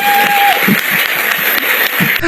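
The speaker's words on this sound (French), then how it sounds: "Applaudissez pour s'il vous plaît" Loud, continuous applause from a congregation during a sermon, a thick steady roar of clapping hands held at full level throughout, with a brief tone at the very start.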